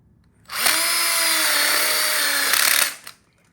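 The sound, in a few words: screwing in grill module coupler with power drill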